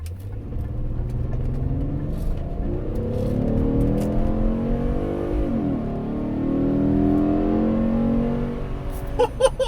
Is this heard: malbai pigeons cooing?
no